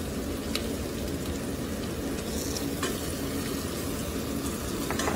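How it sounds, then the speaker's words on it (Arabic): Onions frying in a pan for meatless harira soup give off a steady, close sizzle with occasional crackles and stirring scrapes throughout, with no talking. "حمص البصل، حط معجون طماطم"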